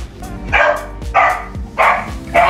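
A dog barks indoors, close and loud, in a steady series of four sharp barks about half a second apart, with no voices over them.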